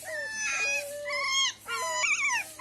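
A street puppy whimpers and whines in several drawn-out, wavering high cries, close and fairly clear with no talk over it.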